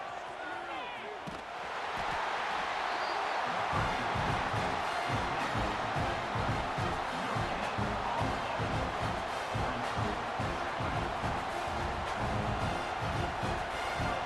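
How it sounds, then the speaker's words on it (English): A roaring stadium crowd in the college football video game EA Sports College Football 26 cheers loudly and steadily, a dense wall of noise that swells early and holds throughout, with a commentator talking over it. "This crowd, full throat, splitting the eardrums and letting them know it's going to be a long day."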